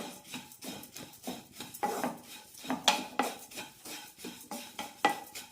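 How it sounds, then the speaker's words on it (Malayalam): Oats dry-roasting in a pan over a low flame, stirred with a utensil that scrapes and knocks against the metal in a quick irregular rhythm, close and fairly quiet, with no speech. "ഓട്സ് ലോ ഫ്ലെയിമിലിട്ട് തന്നെ വറുത്തെടുക്കണം"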